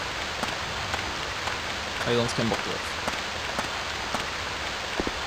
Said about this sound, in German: Angenehm, dass es regnet gerade.